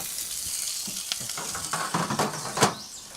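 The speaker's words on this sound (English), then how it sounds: "Steak straight on and back inside there" Steak sizzling on the hot floor of an Uuni Pro quad-fuel pizza oven, a loud steady fry hiss close by with crackles and a few metallic scrapes and clanks of handling.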